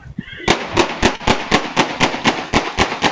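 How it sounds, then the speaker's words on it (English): A rapid string of about a dozen sharp gunshots in fairly even succession, recorded by a neighbor's surveillance camera, loud and close, coming right after a brief faint sound. "Neighbor surveillance video captured the moment gunshots went off."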